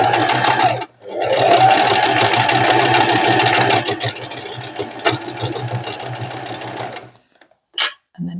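Sewing machine back stitching down a seam on a small fabric tote bag, a loud, close, steady motor whir lasting several seconds, then slowing into short stuttering bursts and brief stops with a few clicks.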